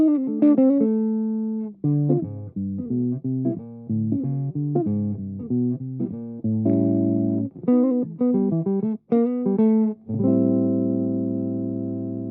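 A clean electric guitar runs through an ART Power Plant with a little EQ, giving a dark, slightly tubby tone. It plays a string of picked notes and short chords with brief pauses, ending on a sustained chord, and no one speaks.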